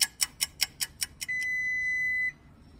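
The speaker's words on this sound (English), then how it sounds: "Our oven timer's going off." Kitchen oven timer going off: seven quick bright beeps in a steady rhythm, then one long sustained tone before it stops, clear and alone.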